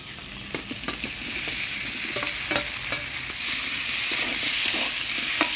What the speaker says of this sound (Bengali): আলু ভিন্ডি মশলা দিয়ে নাড়াচাড়া করে নিলাম